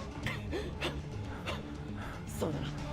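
Repeated short gasps and panting breaths from the Steins;Gate visual novel, several quick sharp inhales spaced through the clip under a soft background tone.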